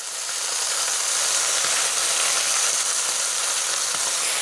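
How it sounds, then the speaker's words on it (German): Chicken breast strips searing hot in a pan for a mango chicken curry, a loud, dense, steady sizzle and hiss heard up close throughout, with no talking. "Die Hähnchenbrust lasse ich jetzt ganz kurz richtig schön scharf anbraten."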